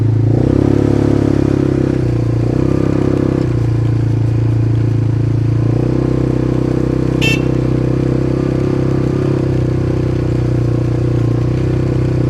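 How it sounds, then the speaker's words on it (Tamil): ATV quad bikes ride at a theme park adventure course: a loud, continuous engine drone close by with shifting revs and rattling clatter, and a brief high squeak partway through. "இப்போ வந்து பார்த்திங்கன்னா ஏவிடி பைக் ரைடு போக போகிறோம்"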